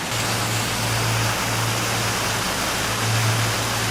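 Treated wastewater from a treatment plant outflow pours in a continuous waterfall-like rush, loud and steady throughout with a low hum underneath.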